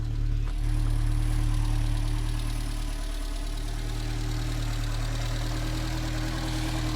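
Peugeot 309 GL petrol engine idling just after a choke start, a steady low hum with faint rapid ticking from the rocker arms, continuous and close.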